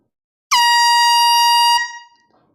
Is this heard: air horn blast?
yes